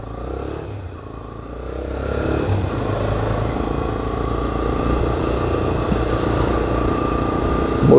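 A motorcycle engine rises and revs nearby in street traffic in Natal, Brazil, a rough growl building over a steady road rumble as it approaches and passes close by.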